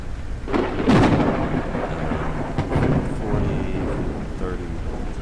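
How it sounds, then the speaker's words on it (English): A loud thunderstorm in the video game Forever Skies, with heavy rumbling thunder rolls over steady rain, close and continuous. "I love me a good loud thunderstorm."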